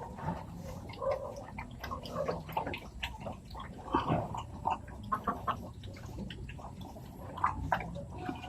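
Chickens cluck softly in scattered bursts, mixed with faint dripping and background noise, moderately distant.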